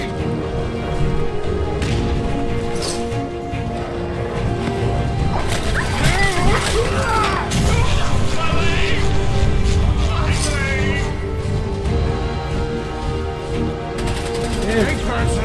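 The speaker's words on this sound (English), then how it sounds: "Great explosion and I missed it." A Fallout 4 explosion bursts out among rapid crashing, gunfire-like blasts in the game, loud and repeated over a constant bed of game sound.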